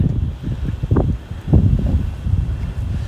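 Gusty wind buffets a microphone on a cold Brooklyn street at night, a steady low rumble with stronger surges near one and one and a half seconds, no voices.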